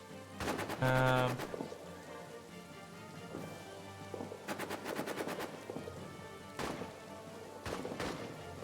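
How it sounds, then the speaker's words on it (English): Automatic machine gun fire in a trench warfare video game, heard as several short rapid bursts of rattling shots spread across the clip, with sharp single cracks toward the end and no one talking. "it does mean retreating through machine gun fire"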